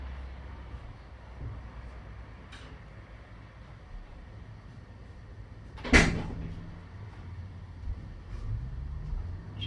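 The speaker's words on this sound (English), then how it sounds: "I had to shut the door so I don't have so much interference from my TV" A door is shut once with a sharp, loud thud in a quiet indoor room, standing alone above a low steady hum.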